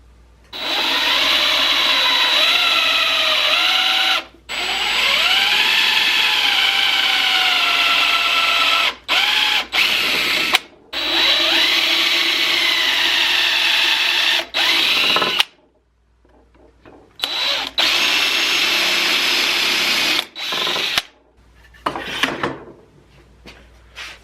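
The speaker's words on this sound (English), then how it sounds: "Now we want to pre-drill 1, 2, 3, 4 holes on this side." A power drill whines loudly in several long bursts while pre-drilling holes in wood, pitch rising as it spins up, with short pauses and clicks between runs.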